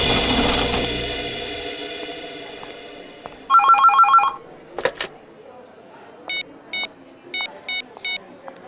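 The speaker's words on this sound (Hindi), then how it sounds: "कांस्टेबल सर, आपके लिए फोन है।" A telephone rings in a police station scene from a crime drama, with short bursts of electronic trilling in repeated pairs after a brief louder chime, over faint room noise and brief background talk.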